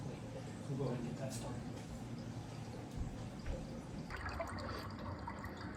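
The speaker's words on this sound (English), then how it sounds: "So I have this big siphon hose so I can drain this relatively quickly." Water from a saltwater coral farm aquarium drains through a large siphon hose into a sink, a faint continuous trickling rush that carries on throughout.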